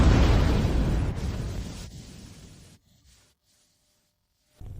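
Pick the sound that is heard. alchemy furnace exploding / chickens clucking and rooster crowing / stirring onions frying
alchemy furnace exploding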